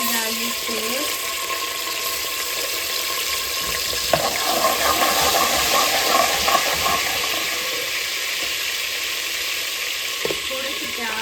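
Ginger garlic paste hits hot oil in a pot for spicy okra, a loud continuous sizzle and crackle with some clatter, close up and without talk.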